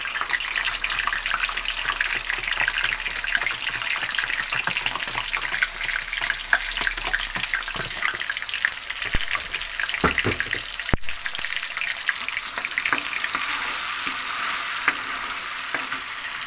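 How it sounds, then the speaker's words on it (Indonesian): Loud, steady sizzling of blended spice paste frying in a hot pan for a snapper-head curry, with occasional stirring scrapes throughout. "Bumbu yang sudah kita blender tadi kita tumis sedikit."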